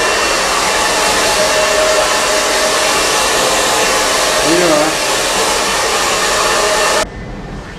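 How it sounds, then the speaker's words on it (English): A hair dryer blows steadily and loudly with a constant broadband whoosh, then cuts off abruptly near the end, leaving quiet room tone. "Or put a hair dryer in the middle here."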